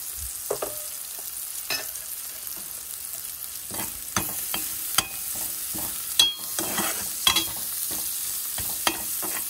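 Ginger fries in a pan for laing, giving a low, steady sizzle with intermittent scraping and clinking from stirring, close and fairly quiet.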